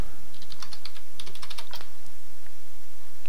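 Rapid bursts of clicking keystrokes on a computer keyboard, close and crisp, tapping in quick irregular clusters with short pauses, no talk.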